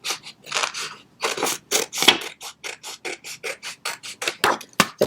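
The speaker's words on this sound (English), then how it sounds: "You will need your scissors and we will cut" Scissors snip through folded paper while cutting out a square for a flower headband craft, a close, crisp series of short cuts in an irregular rhythm, with no talking.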